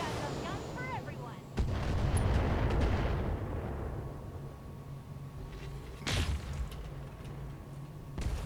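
Long-range missile launches and PPC blasts from BattleTech mechs boom and whoosh in heavy, rumbling bursts, with a sharp crack partway through and a player talking quietly underneath.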